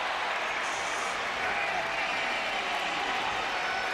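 Crowd cheering and applauding in a college basketball gym after a turnaround jumper during a St. John's vs Rutgers exhibition game, a steady broad roar of many voices sustained throughout at moderate distance.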